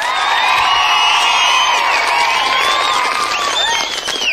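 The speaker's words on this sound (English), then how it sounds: "Give him a round of applause." A game-show studio audience claps, cheers and whoops loudly, whistles and shouts rising over sustained applause before easing slightly at the end.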